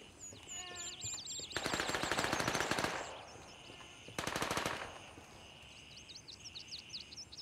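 Two bursts of rapid gunfire ring out in the video game Gray Zone Warfare, fairly distant and sharp, with bird chirps running through the quieter stretches before, between and after.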